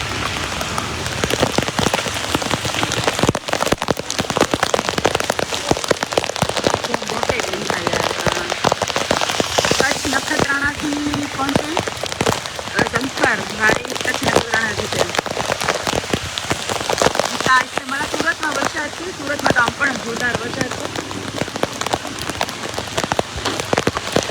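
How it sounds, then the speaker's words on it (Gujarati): Heavy monsoon rain pouring in Dwarka, a dense, continuous hiss of drops hitting surfaces, loud and close throughout, with faint voices now and then in the background. "દ્વારકાની વરસાદની મોજ લઈએ"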